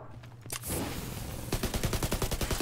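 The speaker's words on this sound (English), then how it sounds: "Did you shoot a flare?" Gunfire bursts in The Division 2, with a loud shot or flare launch at the start and then a rapid, rhythmic string of close, sharp shots.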